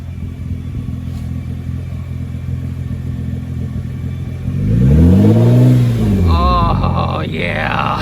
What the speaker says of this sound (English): Go ahead and rev it. Does it sound better?